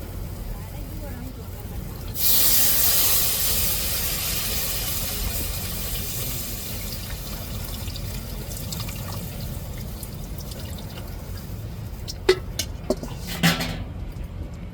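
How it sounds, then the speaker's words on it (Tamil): Tamarind water poured into a hot pan of curry sets off a loud sudden sizzle that slowly settles into a steady hiss, with a few clinks near the end. "கரைச்சி வச்ச புளி தண்ணியை சேர்த்துக்கிறோம்."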